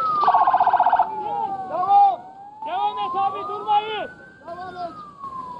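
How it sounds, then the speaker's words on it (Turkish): Several ambulance sirens wail and yelp as they pass through earthquake-struck Hatay, Turkey. The sweeping tones rise and fall and overlap loudly, with a brief harsh electronic burst near the start and faint voices underneath. "Bu ambulanslar geçtikçe bizim de yüreklerimiz ağzımızda."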